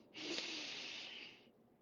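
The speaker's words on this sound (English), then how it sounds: "count the breaths" A single slow, breathy exhale during a breath-counting exercise, soft and close, lasting about a second and a half before trailing into quiet.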